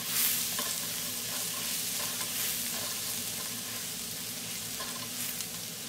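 Garlic sautéing in a pot for jambalaya, a constant close sizzle with soft stirring scrapes, steady in level throughout.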